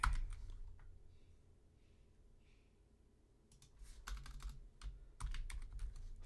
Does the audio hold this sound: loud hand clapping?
no